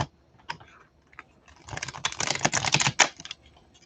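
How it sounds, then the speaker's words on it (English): Tarot cards are shuffled for a reading, producing close, crisp papery flicks and taps that build into a dense riffling burst before trailing off. "I'm going to shuffle."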